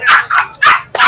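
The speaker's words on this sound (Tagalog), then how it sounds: "Mga shih tzu." Shih tzu dogs bark in a quick burst of four loud, close yaps, high and rough, with short gaps between them and no talking.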